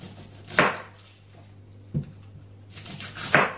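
Onion is chopped on a board with three separate knife thunks spread over a few seconds, each one crisp and close against a quiet background. Nobody speaks.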